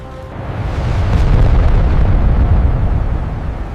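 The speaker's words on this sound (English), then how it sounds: "Then the sky exploded with countermeasures." A deep, rumbling explosive boom swells and sustains in the sky as countermeasures burst after missiles launch, loud and continuous with no speech.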